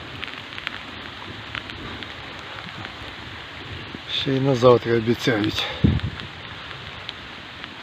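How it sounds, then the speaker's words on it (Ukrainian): Steady rain patters in the background while a person speaks a short sentence near the end, voice rising above the soft downpour. "Так, другу добу у нас йде дощ."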